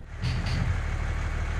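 Army trucks roll in at a military bridge-laying site beside deep water, their heavy engines producing a loud, steady low rumble that swells in after a brief quieter moment and holds throughout.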